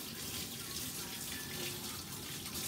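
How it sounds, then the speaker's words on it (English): Hands washed under a running kitchen tap while preparing turkey, a steady close stream of water splashing into a sink with no talking over it. "So I'm going to wash my hands real quick."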